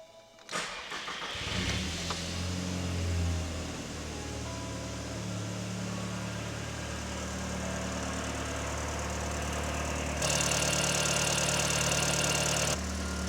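Car engine started for the first time in over four years, still noisy and dry: a cranking catch followed by a steady, slightly knocking idle that runs on continuously, close and alone.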